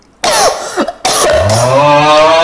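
A loud cough bursts out after a brief quiet, with a second rougher cough, followed by a sustained low droning tone, heard during a Roblox quiz game session on PS5.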